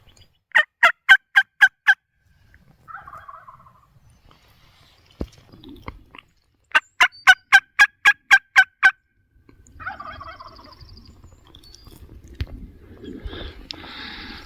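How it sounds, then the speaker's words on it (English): Merriam's wild turkey gobbling on public land in Colorado during spring season, two loud rapid gobbles a few seconds apart, fairly near, with faint rustling and breathing between. "He's still gobbling behind me here."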